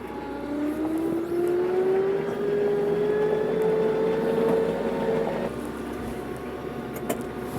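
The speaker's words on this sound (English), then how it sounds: "let me get the tractor in the doorway, and then we'll get that hung up" A tractor engine drones steadily close by as it is driven into a barn doorway, its pitch rising slowly before dropping back near the end, with no talking.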